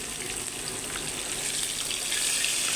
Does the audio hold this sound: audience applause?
no